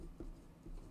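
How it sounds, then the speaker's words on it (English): A marker or chalk scratches a short answer onto a board during a math solution, with a few soft, brief strokes heard close and quiet, with no talking. "So let's write our answer right here"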